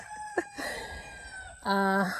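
Backyard chickens cluck in short bursts close by, then one bird lets out a loud, drawn-out crow at the end.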